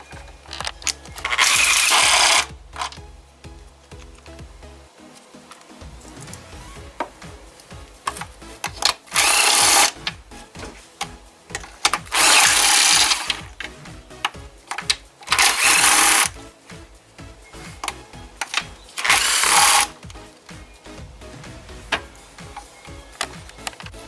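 Ratcheting work with a 12mm deep socket and extension, loosening bolts on a Kia Forte/Soul 1.8/2.0 engine: five loud bursts of rapid mechanical whirring, each about a second long, with quieter clanks and handling noise between them.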